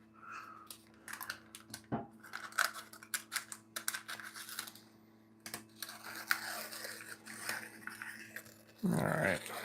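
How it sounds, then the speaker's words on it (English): Pink kitchen scissors trim the edge of a meat crust pizza in a run of quick, close snips and crunchy cuts, with a short louder rustle at the end. "it's like, oh, those are cute pink scissors"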